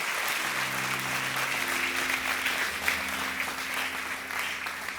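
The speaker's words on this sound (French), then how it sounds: "Est-ce qu'on peut les applaudir bien fort?" Loud, sustained applause from a church audience at a sermon, a dense steady wash of clapping lasting several seconds with a faint sustained musical tone underneath.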